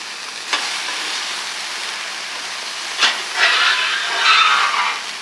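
Burger patties sizzle on a hot griddle, a steady loud hiss running throughout with a few sharper bursts near the middle and end, and no talking.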